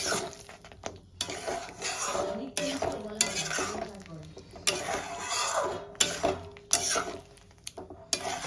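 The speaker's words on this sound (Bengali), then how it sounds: "পনির দিয়ে আমি একটু কষাতে থাকবো" Paneer cubes being stirred in a pan for dhaba-style palak paneer give repeated close scraping and clinking strokes with a light sizzle, while a voice talks faintly in the background.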